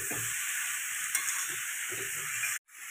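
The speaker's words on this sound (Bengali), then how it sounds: "তো সবজি আমাদের ভাজা হয়ে গেছে মোটামুটি" Vegetables for chowmein stir-frying in a pan, a steady close sizzle with scraping stir strokes throughout, briefly cutting out near the end before resuming.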